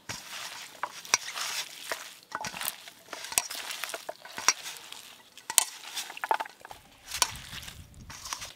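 Bottle gourd leaves are mixed by hand with poppy seed, green chilli paste and mustard oil. The result is a series of soft wet squishes and scrapes against a bowl, irregular and close, with no talk.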